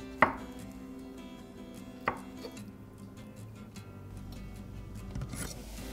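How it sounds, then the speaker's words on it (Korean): Two sharp knife chops through tofu on a cutting board, about two seconds apart, close and crisp against a quiet kitchen hum, followed by faint handling noises. "두부 150g은 깍둑 썰기에서 준비해줍니다"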